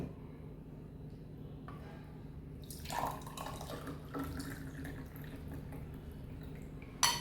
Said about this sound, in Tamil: இப்போ இந்த கிளாஸில் நம்ம ட்ரான்ஸ்ஃபர் பண்ண போகிறோம்.